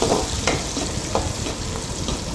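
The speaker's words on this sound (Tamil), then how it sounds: "நல்லா வெங்காயத்தை நல்லா வதக்கி விடுங்க" Onions sautéing in a pan for a village-style chicken curry: a dense, close sizzle with scraping stirs at intervals, loud and continuous with no talking.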